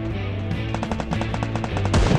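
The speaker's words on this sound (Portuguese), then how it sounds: "Tem ali os tiros ali" Rapid automatic gunfire in the battle-royale game Free Fire during a ranked squad match, a burst of evenly spaced shots at a steady rhythm, moderately loud over constant game ambience, ending in a louder impact.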